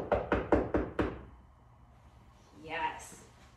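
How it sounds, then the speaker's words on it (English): Five quick, solid knocks on a wall in a brisk rhythm, followed by quiet and then a short spoken word. "Maybe I knock on a wall"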